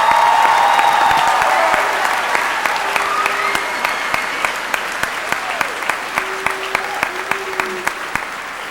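Audience applause and cheering fill a high school commencement hall for the graduating class of 2011, loud at first, then thinning into scattered claps, with a few whistles and voices in the crowd.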